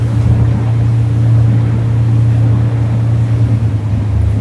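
Motorboat with a Mercury 150 Pro XS outboard on a Феникс 600 hull, cruising near 40 km/h at 3450 rpm on an aluminum propeller: a steady, loud engine drone with a constant low hum and rushing water, no voices.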